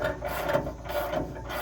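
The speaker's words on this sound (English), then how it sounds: "Keep on cranking." A hand crank tool pushes a racked RV slide room wall back into place, a close repetitive ratcheting, grinding clatter in an uneven rhythm of turns, with no talking.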